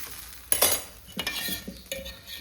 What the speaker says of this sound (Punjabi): ਇਹਨੂੰ ਦੇਸੀ ਘਿਓ ਨਾਲ ਤਲਾਂਗੀ